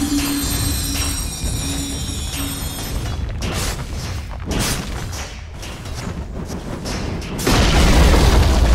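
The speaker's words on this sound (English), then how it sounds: "Radiant's bottom tower has fallen" In Dota 2, the Radiant bottom tower is attacked and destroyed, with loud booming impacts and whooshing bursts that run steadily and swell to a heavy rumble at the end, without talk.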